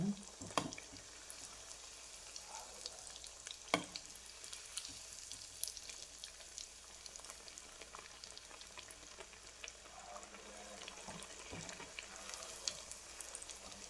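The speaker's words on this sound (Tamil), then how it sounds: "பொரிச்சு எடுத்துருவோம். நான் இப்போ இதில் 2 போட்டிருக்கேங்க." Vegetable spring rolls deep-fry in hot oil at home, two at a time, giving a steady low sizzle and bubbling with occasional sharper pops and clicks from utensils, fairly quiet throughout.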